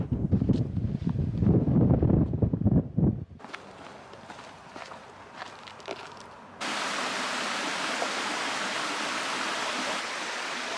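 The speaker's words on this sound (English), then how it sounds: "river path where we can cross over to the waterfall now." River stream flowing through a Peak District clough, a steady broadband rush of water, first heard under footsteps and wind buffeting, then as a louder constant roar from close by.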